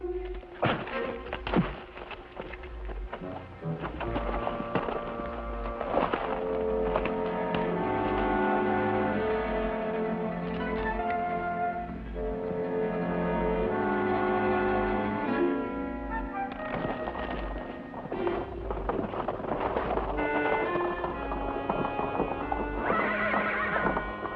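A horse gallops with rapid, loud clip-clop hoofbeats running steadily throughout, broken by repeated whinnies and neighs, set against a dramatic Western score.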